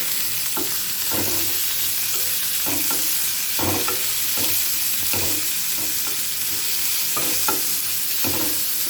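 Chopped cabbage and vegetables for veg fried rice frying in a pan under a constant loud sizzle, with regular scraping stirs from a spatula punctuating it every second or so.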